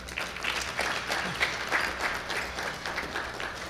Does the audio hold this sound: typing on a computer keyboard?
no